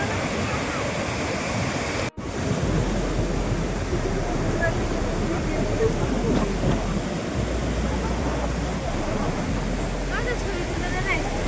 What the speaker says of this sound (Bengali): দেখতে পাচ্ছ বিশাল ঢেউ ঢেউ আসছে।